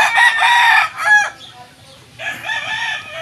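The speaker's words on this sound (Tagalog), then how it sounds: "ito nga pala yung aking mga manok" Chickens cluck and a rooster crows loudly and close by, in two bursts separated by a brief pause.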